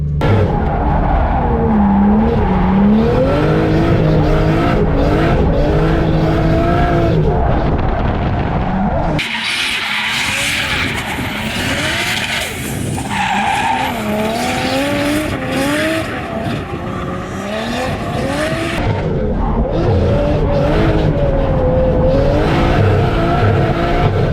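A car thrown hard into angle while drifting, its tires squealing in long wavering howls over a loud, continuous engine roar, close and intense throughout with no talking.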